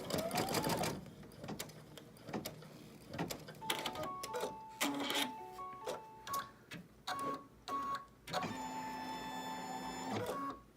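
An embroidery machine stitches small placement stitches on an in-the-hoop stocking, giving bursts of rapid mechanical whirring with pauses and clicks between them, then a steadier high buzzing run near the end, close by and fairly quiet.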